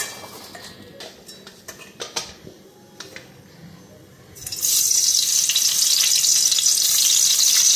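Sweet pumpkin slices hit a hot pan and start frying, a loud steady sizzle rising sharply partway through after a few soft clinks and handling sounds.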